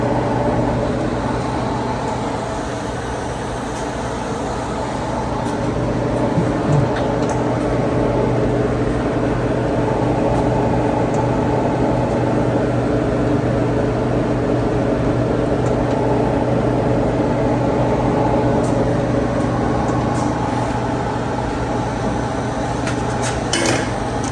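A homemade waste oil burner burns off the oil left in its pan, giving a loud, steady roar and rumble that runs without a break and with no voices.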